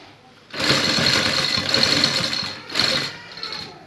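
Sewing machine stitching a lace neck strip onto a kameez, whirring steadily close up for a few seconds, then stopping briefly and starting again.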